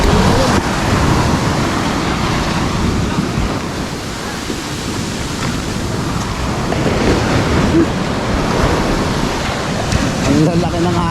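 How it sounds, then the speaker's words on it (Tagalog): Steady roar of surf crashing on a shore, continuous and loud, with wind noise and faint voices in the background. "Ang lalaki ng alon."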